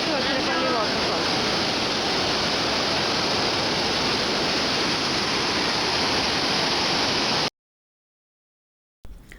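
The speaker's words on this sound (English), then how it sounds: "Vazhachal waterfalls" Vazhachal waterfall near Athirapally roars in a loud, dense, unbroken rush of falling water, close and steady, before cutting to silence and a brief return at the end.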